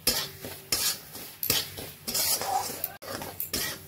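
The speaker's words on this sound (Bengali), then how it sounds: "এইভাবে নাড়া দিয়ে দিয়ে সুজিটাকে আমি হালকা সোনালি করে ভেজে নেব।" Semolina roasts in a pan while a spoon stirs it, giving repeated scraping sweeps and metallic knocks in an uneven rhythm over a soft sizzle, near and clear with no speech.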